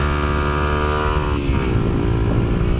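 A modified Kayo MR125 dirt bike engine revs loudly up close. Its steady buzzing drone climbs and falls with the throttle, and the pitch shifts about midway through.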